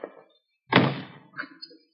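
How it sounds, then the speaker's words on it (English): A door slams once with a single close, heavy thunk, followed by a few fainter clattering knocks, in an old radio drama. "Slam the door quietly."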